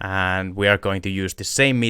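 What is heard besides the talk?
No everyday noise stands out behind the speech.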